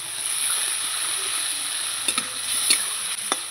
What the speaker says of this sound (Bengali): এই যে হলুদ দিয়ে ভালো করে কষাবো